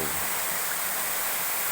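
A waterfall about 20 meters high at a hidden scenic spot in Nagari Supayang, heard as a steady, fairly faint broadband rush of falling water, continuous and unbroken throughout with no voices.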